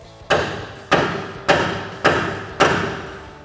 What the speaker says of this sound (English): grab your hammer and strike the knuckle